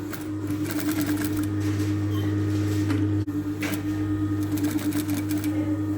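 Sewing machine stitching the placket onto a polo shirt, a steady close motor hum with a fast clattering needle rhythm, briefly catching near the middle before running on.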